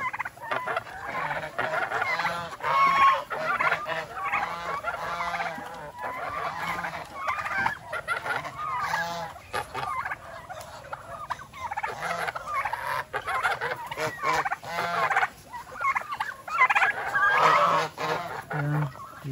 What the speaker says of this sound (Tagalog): Sa pabo tayo, saka sa gansa.